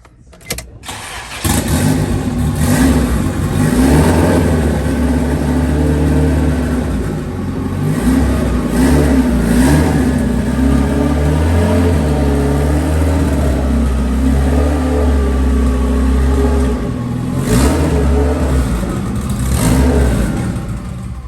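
Acura Integra engine running on a dyno during a pump-gas test ahead of meth injection, loud and close. It catches and then holds a sustained high-rpm roar with slight swells and dips for about twenty seconds.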